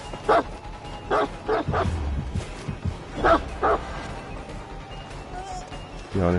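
The Houndmaster's dog in Dead by Daylight barking and yipping in short repeated bursts amid game sounds, with a voice talking over the action.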